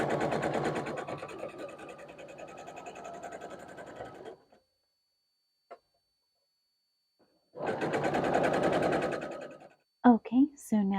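Domestic sewing machine stitching quilt block units for a barn star quilt, running in two steady bursts of rapid rhythmic needle chatter separated by a quiet pause, close and fairly loud, with brief clicks at the end.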